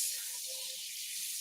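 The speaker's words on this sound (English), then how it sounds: "Hopefully you guys can hear that sizzling sound." Oil sizzling in a hot cast iron pan while preparing jalapeño cornbread, a steady, close hiss that stays even for the whole moment, with no voices.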